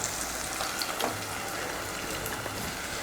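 Ground masala for ginger kuzhambu sautéing in a pan with tomato, giving a soft, steady sizzle and crackle with faint stirring scrapes, close and alone.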